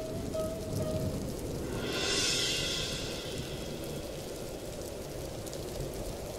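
Rain pours down in a rural Bengali cartoon scene, a constant hiss of falling water at moderate level, briefly swelling in the middle, with no voices over it.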